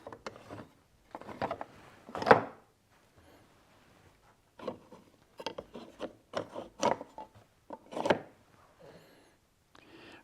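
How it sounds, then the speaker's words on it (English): Garage doors on a newly built garage rolling down, heard as a series of irregular mechanical rubbing and rattling bursts with quiet gaps between, fairly close and moderately loud. "And garage doors going down,"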